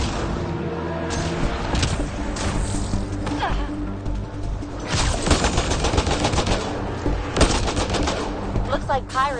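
Sustained gunfire erupts in the sci-fi shooter Mass Effect: Andromeda, with loud rapid bursts and impacts layered over a constant battle din and music. A few voices break through the noise.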